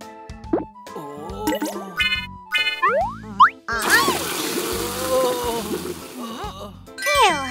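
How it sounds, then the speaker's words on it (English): Cartoon sound effects from a children's animation about fixing a zombie police car: bouncy plops, boings and tinkling pings, then a hissing burst of spray lasting a second or two, followed by more playful boings. "let's use some spray to help the police car get back to normal"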